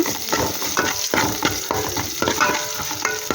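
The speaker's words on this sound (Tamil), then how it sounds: "வெங்காயத்தை அள்ளி போட்டு வெங்காயத்தை நல்லா வதக்கிக்கலாம்" Onions sautéing loudly in a hot pan, a continuous sizzle broken by repeated scraping strokes of a spoon stirring them.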